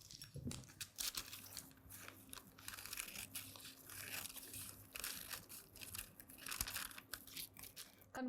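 Scissors cut through paper while a dress pattern is being drafted. The quiet, close crunching and crinkling snips come in an uneven series, with no talking.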